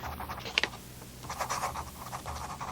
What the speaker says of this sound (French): Il écrit. Avec quoi? Avec un stylo. Sur quoi? Sur le papier.